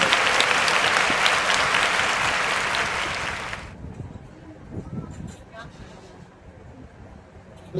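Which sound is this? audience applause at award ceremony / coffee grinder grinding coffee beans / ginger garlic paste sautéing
audience applause at award ceremony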